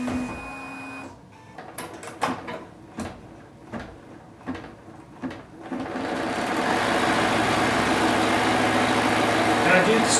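A Bernina B990 embroidery sewing machine stitching rag doll arm pieces, with a brief hum, then a series of clicks and taps, and then a loud, steady, close mechanical whir of continuous stitching. Speech is faint or absent.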